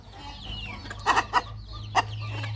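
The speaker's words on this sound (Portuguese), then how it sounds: "aqui, gente, estão os pintinhos que nasceram" A hen clucks a few short, close calls among newly hatched chicks in a backyard flock, with faint peeping and quiet farmyard background.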